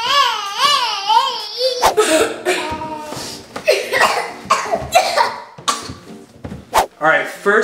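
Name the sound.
children coughing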